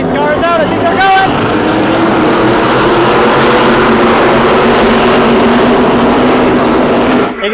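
Loud, continuous engine roar from ARCA race cars at Daytona International Speedway, steady and close, with a brief higher whine at the start.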